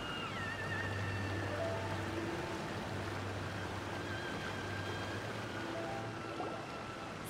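Steady rushing water of a waterfall in a video game, a continuous broadband roar with soft tonal game music layered over it, no voices.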